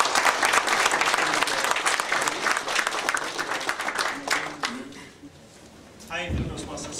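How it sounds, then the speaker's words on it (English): Loud audience applause at a Toastmasters club meeting, dense and sustained for about five seconds before thinning out, with a voice starting to speak near the end. "Give a big round of applause."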